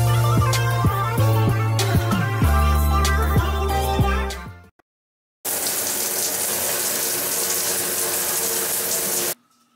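Indoor water running hard from a home shower or tap, a loud steady gush with faint clatter, briefly cut off, then resuming.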